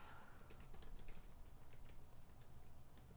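A password is typed on a computer keyboard: quick, irregular bursts of close, crisp key clicks with short pauses between runs, at fairly low volume and with no talking.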